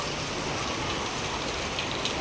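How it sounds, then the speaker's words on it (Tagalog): Heavy rain pours steadily and densely, a close, continuous hiss of drops on surfaces with no break; no distinct thunderclap stands out. "ang lakas ng ulan diri. Kumikidlat-kidlat pa."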